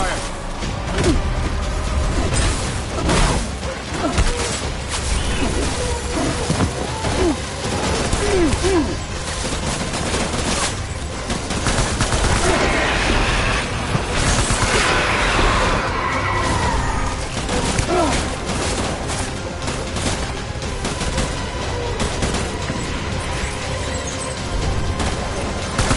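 Heavy gunfire from the video game Death Stranding Director's Cut, sustained bursts and fusillades of automatic weapons with crashes and booms, loud and continuous throughout, with faint voices mixed in.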